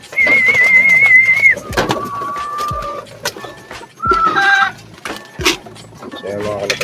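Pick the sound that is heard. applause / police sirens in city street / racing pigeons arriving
racing pigeons arriving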